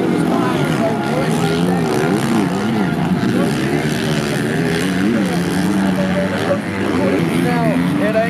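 Motocross race bikes in a racing video game at a Motocross of Nations event scream in a loud, continuous, wavering engine chorus with rising and falling pitch as many bikes rev together, and a voice talks over it.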